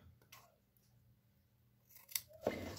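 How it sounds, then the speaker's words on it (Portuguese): Scissors snip through satin and organza fabric for a flower: two crisp cuts close together near the end, following a quiet stretch with faint handling noise. "E agora é só cortar aqui, ó."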